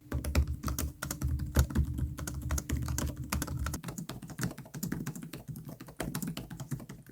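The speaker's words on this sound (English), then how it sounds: "Now here's how they type." Keys clatter at a rapid, steady pace on MSI Stealth 16 and Asus ROG Zephyrus G16 gaming laptop keyboards, a dense run of close, thumpy clicks with no talk over them.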